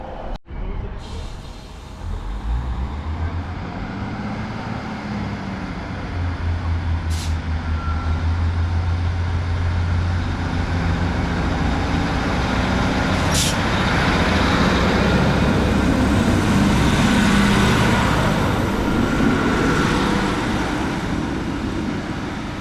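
Train unit 156441 pulls away from Crossens station toward Preston on the Blackpool lines, a steady low engine drone that swells gradually and stays fairly close throughout, with no speech.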